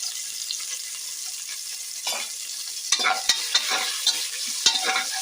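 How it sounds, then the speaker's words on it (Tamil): Onions sauté in hot oil for a vegetable biryani, a bright steady sizzle with occasional clinks and scrapes of stirring growing busier toward the end. "வெங்காயம் நல்லா வதங்கிட்டோம்."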